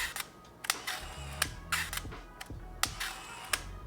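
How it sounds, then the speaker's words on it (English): A mechanical 35mm film point-and-shoot camera shutter clicks and clunks repeatedly, sharp close-up snaps in an irregular rhythm with small whirring movements between them. "just listen to this shutter"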